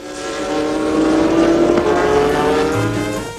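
A turbo race car, Renault or Porsche, roars past at about 350 km/h during the 24 Hours race, its engine whine swelling loud and falling in pitch as it passes, then fading away.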